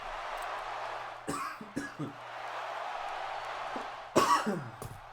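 Several sharp, close coughs break out in short fits, separated by pauses, over a steady low hum.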